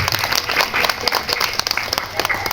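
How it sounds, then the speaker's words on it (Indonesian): At a Sundanese Islamic sermon gathering marking the Prophet's birthday, the audience applauds the organizers with a short, steady patter of many hands clapping, fairly close and continuous. "tepuk tangan untuk para panitia"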